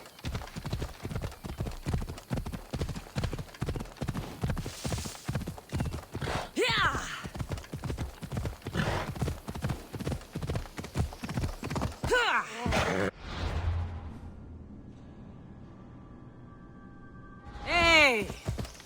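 Galloping horse in Assassin's Creed Odyssey, a steady run of hoofbeats for about twelve seconds with a whinny near the end, then the hooves stop, leaving a low rumble and a final burst of noise.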